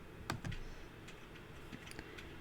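Soft keystrokes on a computer keyboard while a university email is being composed: a few quick, light taps in irregular bursts, close but quiet, with no talking.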